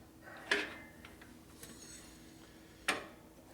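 Two sharp metallic hammer blows, spaced a couple of seconds apart, drive the axle of a 1972 1000cc Ironhead Harley Sportster through its caliper bracket, with faint ticks between them.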